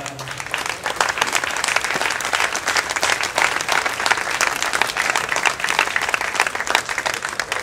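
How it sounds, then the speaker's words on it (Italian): A crowd at a public debate during a party celebration breaks into sustained, dense applause, many hands clapping loudly and continuously with no talking above it. "dovrebbe fare scattare un applauso a Carlo."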